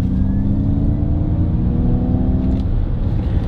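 Electric 2021 Ford Mustang Mach E accelerating hard, a steady close rumble with rising whine-like tones that hold loud for about two and a half seconds before easing into a broader road roar.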